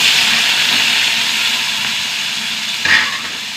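Mustard seeds splutter in hot oil in a pan, giving a loud, steady frying hiss with crackling and one brief sharper burst near the end.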